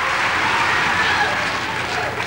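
A large crowd at the 1984 Apple Macintosh launch event applauds and cheers in a steady, loud roar of clapping that holds evenly throughout, with no break or lull.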